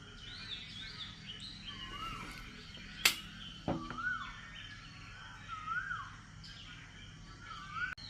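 Small sparrows chirp outdoors at dawn in a quiet village, a scatter of short bright tweets and rising calls, fairly distant and soft, broken by a couple of sharp knocks nearby.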